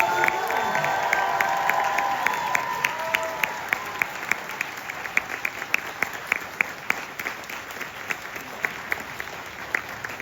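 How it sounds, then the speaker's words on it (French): Sustained applause from a conference audience, many hands clapping steadily with crisp individual claps standing out, loud and fairly close, with faint crowd murmur beneath. "Monsieur Margonnet, applaudir s'il vous plaît."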